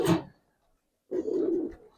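Cooing from Palla-line flying pigeons, three females, in a loft: a short close burst of low throaty coo, a pause of near silence, then a longer steady rolling coo.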